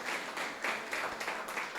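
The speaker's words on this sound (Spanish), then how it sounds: "denme un aplauso a Dios por ellos" Church congregation giving a round of applause, steady rapid clapping from a crowd at moderate volume, continuous throughout.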